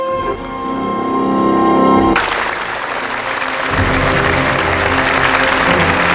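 Thunderous audience applause after a ballet performance of Cinderella, starting as music fades and swelling into a dense, sustained ovation that fills the hall.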